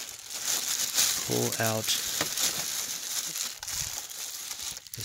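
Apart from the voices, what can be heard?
plastic wrapping being undone from a Bissell vacuum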